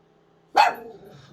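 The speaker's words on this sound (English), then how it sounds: "Zeus, no barking, no Minnie." A dog named Zeus gives one sharp, close bark that trails off into a brief rough tail, after near silence.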